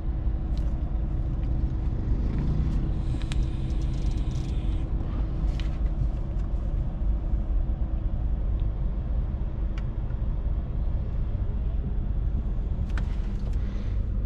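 Steady low engine rumble and road noise from inside a Mercedes A250 being driven gently in D mode, continuous and even with faint cabin clicks, no talking.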